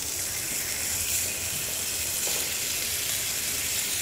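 Steaks browning in a pan, a steady close, loud sizzle with constant hiss and no pauses.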